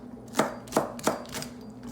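Green onions are chopped with a knife on a board, four crisp, evenly spaced thuds close by in a steady rhythm, with no voice over them.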